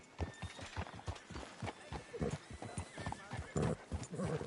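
Horse hooves clip-clop in a Western video game, with a horse snorting and whinnying close by, the steps uneven and punchy over a quiet background.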